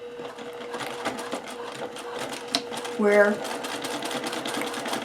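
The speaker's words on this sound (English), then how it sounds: "You just have to get this little section right here and just sew through this one little section" A domestic sewing machine stitches through a small section of a reusable fabric Christmas cracker, giving a rapid, steady mechanical chatter up close while someone talks over it.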